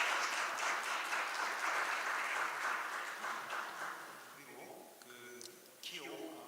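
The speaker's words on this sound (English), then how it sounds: "please welcome him with a big round of applause" A conference audience applauds to welcome a judge at an international intellectual property court event, with steady clapping that thins and fades toward the end as a voice begins to speak.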